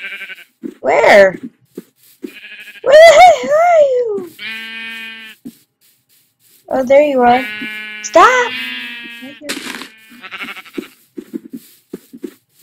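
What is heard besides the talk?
sheep bleating in the video game Minecraft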